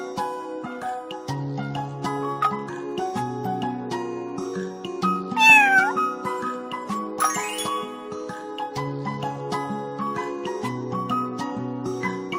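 A cat meows a couple of times over light music with tinkling chime tones, the meows rising and falling clearly in the middle.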